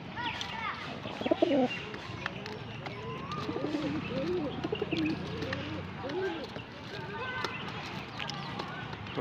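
Pigeons coo in soft, repeated rolling calls close by, with scattered chirps and a person talking intermittently over them.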